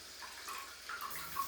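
A smart toilet's front bidet wash sprays warm water in a soft, steady hiss with faint trickling. It is heard up close and alone, without talk.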